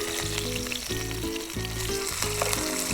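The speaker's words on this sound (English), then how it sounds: "I'll throw in these other fillets. Whiting, flathead, a little bit of oil around it, and watch the magic." Whiting and flathead fish fillets frying in oil in a pan: a loud, continuous crackling sizzle, close and steady, with a low tonal hum running underneath and no speech.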